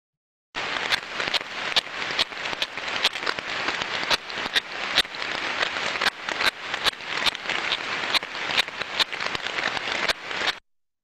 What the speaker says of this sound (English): we could hear in the headset a very faint ticking sound